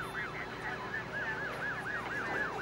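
An ambulance siren wails in a fast, repeating up-and-down sweep, steady and moderately faint, with a low constant hum beneath and no talking.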